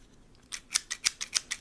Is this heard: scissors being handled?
yes